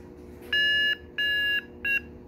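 Paramotor variometer giving three bright electronic beeps as it is raised, each a steady high tone with short gaps between, the last one shorter, heard close and alone.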